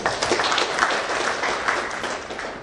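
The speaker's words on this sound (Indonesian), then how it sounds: "Tepuk tangan buat." A crowd at a public event in Jakarta claps steadily, a continuous, fairly loud burst of applause with no speech over it.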